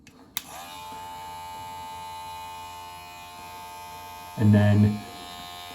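Electric beard trimmer humming steadily close up while cutting a medium-length beard, with a brief bump of louder buzzing near the end and a few spoken words.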